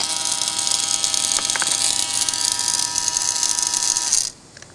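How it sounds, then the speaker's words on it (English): Electric fuel pump on a 1989 Ford F-150 fuel tank sending unit running briefly out of the tank, a steady high whining buzz close by that cuts off abruptly near the end. "So the fuel pump test okay."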